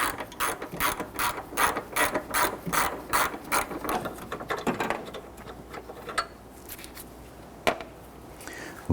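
Ratchet removing an upper bolt on a 2005-2021 Nissan Frontier 4.0L V6, with rapid, close mechanical clicking in steady bursts for several seconds, then a few sparse clicks and quieter handling noises.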